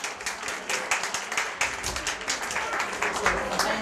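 An audience at a children's summer reading kickoff applauds for Steve Blunt, with dense, steady clapping from many hands and voices chattering and calling out underneath throughout.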